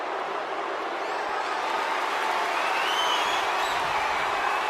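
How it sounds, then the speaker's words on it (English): Steady crowd roar and cheering fills a Minecraft wrestling title match, a dense wash of noise that holds at an even level without letting up. "This crowd can be freaking annoying as all frick."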